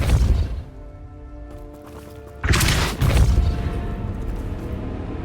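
Depulso spell cast in Hogwarts Legacy, a loud booming blast that hits sharply midway and then rumbles on over lingering game ambience and music.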